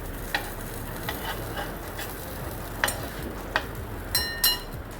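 Flatbread roasts with ghee on a hot griddle, a soft steady sizzle with occasional light clinks and scrapes of a utensil, close and fairly quiet.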